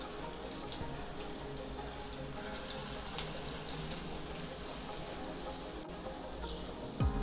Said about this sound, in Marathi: तर आपल्याला हे ट्रायंगल्स शॅलो फ्राय करून घ्यायचे आहेत।